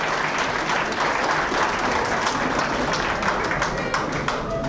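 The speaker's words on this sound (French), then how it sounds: "Que l'on applaudit aussi" An audience at a Yamaha Electone music club event in Le Havre gives sustained, even applause, many hands clapping densely and steadily from start to finish, with a faint murmur of voices under it.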